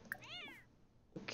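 A single short, rising-and-falling cat meow from The Sims 4 game, fairly quiet, followed by a brief burst of other game sound.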